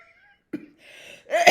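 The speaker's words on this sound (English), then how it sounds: "every now and then that little cough comes back" A single short cough from a woman, close and fairly soft, followed by a breathy rasp, in a quiet room.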